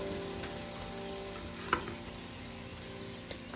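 Sliced onions sauté in a pan for a Kerala-style chicken curry, giving a soft, steady sizzle at low volume with a faint clink or stir near the middle, no voices.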